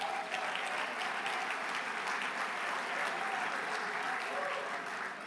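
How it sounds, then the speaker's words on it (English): Steady applause fills a mayors' awards luncheon hall, an even, sustained patter of many hands at moderate distance with no break and no voices. "Please give all of them a round of applause."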